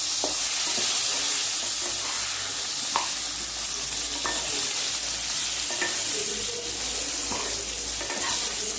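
Potatoes fry in hot oil for a mutton dish, a loud, continuous close-up sizzle with crackles and occasional spatula stirring clicks, and no voices.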